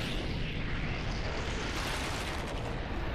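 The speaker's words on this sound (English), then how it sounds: "The rocket's going up." A rocket launches during a live Fortnite event, a loud, continuous roaring rumble like a massive blast that fills the sound with steady broadband noise throughout, with no talking.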